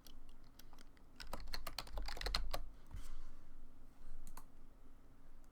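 Keys clatter on a computer keyboard in a quick burst of close, crisp clicks, pausing before a few more scattered keystrokes follow in a quiet room.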